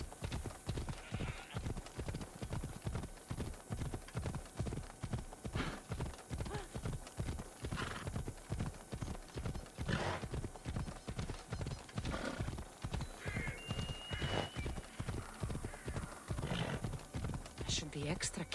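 Rhythmic hoofbeats of a galloping horse in Assassin's Creed Odyssey pound steadily throughout, with an occasional whinny and a voice speaking now and then over the clatter.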